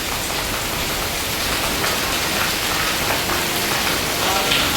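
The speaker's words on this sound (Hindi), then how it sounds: "ये देखो कितनी तेज बारिश आ रही है ना" Heavy rain seen from a back balcony pours down steadily and loudly, a dense continuous hiss of drops hitting surfaces with no pauses.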